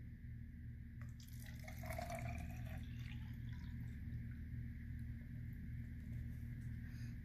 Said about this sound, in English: Let's pour this water that we have in here in there